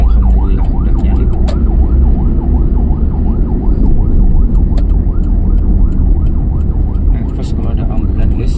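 A wailing ambulance siren cycles up and down continuously and close by, riding over heavy traffic rumble and engine noise on a road near Bandung throughout.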